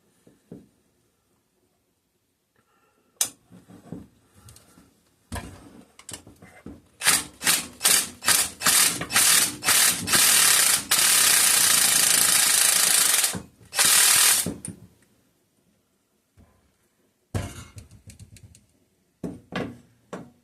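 An impact wrench works a stuck bolt on a 5 hp Briggs and Stratton carburetor with gear reduction. Short hammering bursts build into a loud, sustained rattling run, then stop, followed by a few scattered clanks close by.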